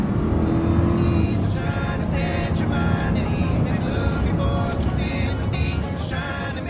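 A car roars off at speed in a tense crime audio drama, its engine revving hard and accelerating loudly and steadily close by for several seconds, with no break.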